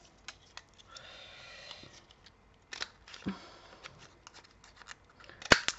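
Scissors snip around the corners of a paper pop-up card, rounding them off in a few short, close crisp cuts with brief pauses between.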